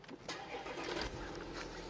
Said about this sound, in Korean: 바로 엔진 한번 걸어 보겠습니다